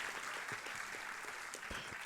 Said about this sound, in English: Big applause for the EDC members who have been supporting.